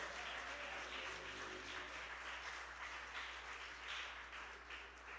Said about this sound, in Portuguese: Você pode aplaudir ao Senhor Jesus por isso?